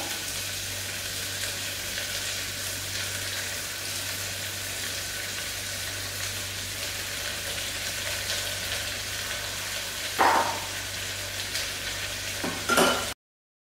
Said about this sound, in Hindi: हम प्याज को भूनते हैं